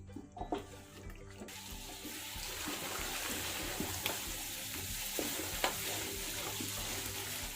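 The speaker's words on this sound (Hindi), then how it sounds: "ये देखिए, मुझे भूनते हुए तकरीबन 10 मिनट हो चुके हैं।" Mutton and potato pieces fry and sizzle in hot ghee for aloo gosht, with a steady crackling hiss and repeated scraping and clattering as a spoon stirs the pan, close and continuous.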